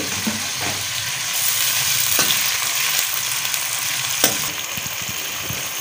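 Chopped onions and tomatoes fry in a pan for a bhindi and onion masala, a steady close sizzle with a few scraping stirs and spatula clinks throughout.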